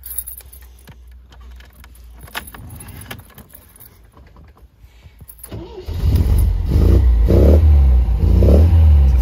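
A 1979 MGB Roadster sits quietly for several seconds, then its engine cranks and catches, settling into a loud, throbbing idle close up.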